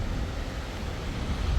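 A powerful waterfall in Sissu Valley, Himachal Pradesh, gives a dense, loud, continuous roar with a heavy low rumble and no voices.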